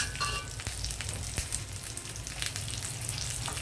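Curry leaves fry in a hot tempering of garlic, cumin, mustard seeds and dried red chillies, a soft, steady sizzle dotted with sharp little crackles and pops.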